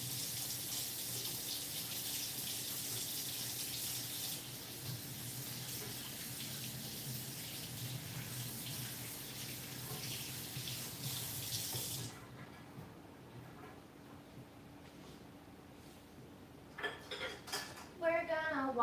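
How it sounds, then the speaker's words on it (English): Baby potatoes rinsed under a running kitchen tap, a steady hiss of water splashing for about twelve seconds, then the tap stops and quieter handling and clinks of dishes follow, with brief sounds near the end. "We're gonna wash some potatoes. Baby potatoes, leftover from German potato salad shooting."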